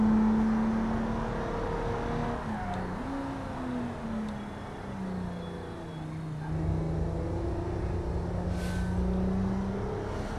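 Race car engine in a racing video game, a steady droning hum that shifts pitch gradually as the car drives, with a slight surge in level midway, continuous and fairly close with no talk.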